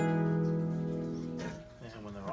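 A held harpsichord chord with the buff stop engaged gives a muted, damped tone that rings steadily for over a second, then fades as a voice starts talking.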